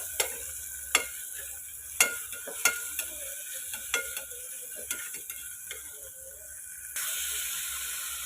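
Onions sauté in a pan with salt under a soft, continuous sizzle, broken by sharp scrapes and taps as a spoon stirs them every second or so.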